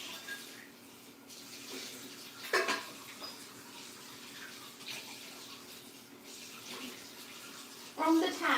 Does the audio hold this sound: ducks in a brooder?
no